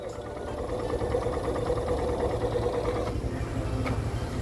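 A motorcycle engine idles steadily outside a hospital on a rainy trip home, a fairly loud, continuous low rumble with a slight chug that holds unchanged from start to finish, with no voices.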